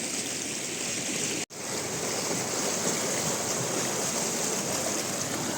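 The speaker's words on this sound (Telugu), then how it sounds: "పిచ్చ ఫోర్స్కి వెళ్తుంది వాటర్ ఇది" Fast-flowing stream water rushes continuously at Maredumilli, a loud, dense roar with no pauses apart from one momentary cut.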